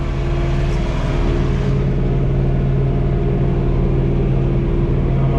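A John Deere 3 Series compact tractor drives with a rake dropped behind it, grading ground; its diesel engine drones loud and steady at close range, with a low, even rumble and no voices.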